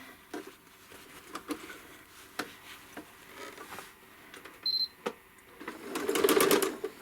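A home sewing machine stitches a quilt, making a few sparse clicks and taps, then a short burst of fast, rattling stitching near the end, close and moderately loud.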